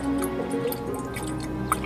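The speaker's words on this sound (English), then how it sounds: "We can see the water is draining from this top vessel as fast as that pipe will carry it really down into the bottom vessel." Water drains through a pipe from the top vessel of a model fountain into the bottom vessel, giving a close, steady trickle with small drips and gurgles over about two seconds.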